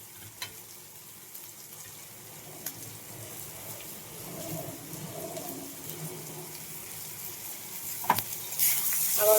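Grated ginger and garlic fry in a pan for a Bengali egg tarka with mixed dal, a soft steady sizzle that swells louder toward the end, with occasional stirring clinks and no talk.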